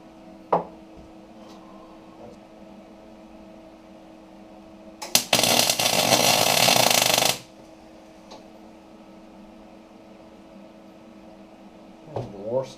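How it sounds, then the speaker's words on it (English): A single tack weld is struck on the BMW E31 840Ci EV conversion during six-speed gearbox work: one harsh, crackling buzz lasting about two seconds, up close, set between a quiet workshop background and a few small clicks and knocks. "That's the worst tack weld I've ever done."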